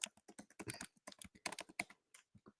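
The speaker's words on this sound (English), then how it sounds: "Let me just type in quote, nun quote." Rapid tapping of keys on a computer keyboard, close and quiet, with uneven bursts of clicks and short pauses between them.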